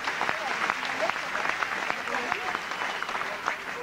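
Rugby crowd at a 1984 Llanelli versus South Wales Police match applauding a long diagonal kick, steady broad clapping from a large crowd with a commentator's voice faintly over it.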